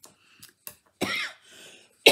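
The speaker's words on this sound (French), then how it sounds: "Ça fait 2-3 jours que je tousse un petit peu." A person coughs in a few short bursts, close to the microphone, with one longer harsh cough in the middle and brief pauses of silence between.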